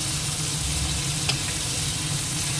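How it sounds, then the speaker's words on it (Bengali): Large shrimp sizzle steadily in a hot pan, a constant crackling hiss with one brief utensil scrape partway through, no talking. "একটু ভাজা হয়ে যায় চিংড়িটা,"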